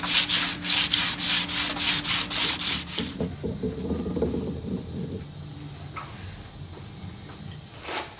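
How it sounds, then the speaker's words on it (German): Hand sanding a Mercedes Vario 818 4x4 camper conversion with quick, even back-and-forth strokes, about a dozen rasping passes, then quieter scraping and faint handling noises. "Und auch hier schleife ich etwas an."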